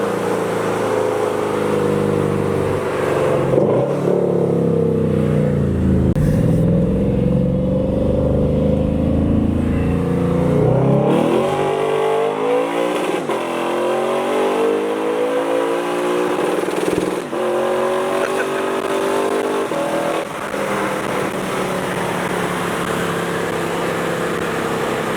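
A Lexus RCF fitted with titanium Lexon Exclusive exhaust mufflers revs repeatedly. Its loud engine note rises and falls in sweeping pitch changes over about twenty-five seconds, with no talking.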